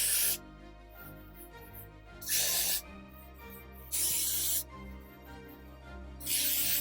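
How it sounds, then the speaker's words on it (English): Hairspray sprayed in four short bursts about a second apart while applying a wig, each a loud close hiss separated by quiet gaps, with no talk. "It's time to grab our hairspray again."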